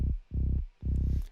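A sub bass from a filtered saw-wave Serum preset, processed with a CLA bass plugin, plays three deep, rounded notes in a steady pulsing rhythm, low and fairly quiet with no other parts.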